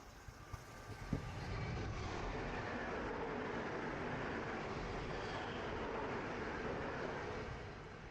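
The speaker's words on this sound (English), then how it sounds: "I did not see that train coming." A train rumbles past close by outdoors, a steady broadband roar that swells after a couple of faint knocks and holds loud and even to the end, with no talk.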